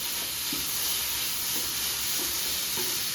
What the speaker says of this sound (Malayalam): ഇനി നമ്മളിതാ ഇതിനകത്തിലോട്ട് നമ്മളുടെ മെയിൻ ഇൻഗ്രീഡിയൻ്റ് ആയിട്ടുള്ള ടൊമാറ്റോ ഇട്ട് കൊടുക്കുകയാണ് ഇത് നമുക്ക് നല്ലതുപോലെ ഒന്ന് വഴറ്റി കൊടുക്കാം